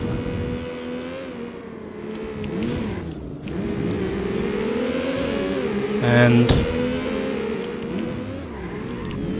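Race car engine from Need for Speed: Porsche 2000 on PlayStation, a steady droning whine shifting pitch as it revs, with a brief sharper burst midway and a voice talking over it throughout.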